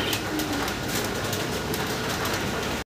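Pigeons of a prized show breed cooing in a loft under steady dense background noise, a continuous low murmur with no talk.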